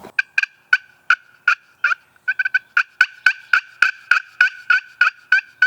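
Repeated wild turkey gobbles and clucks ring out close and loud in a steady series of sharp bursts, with a quick stuttering run partway through and no talking.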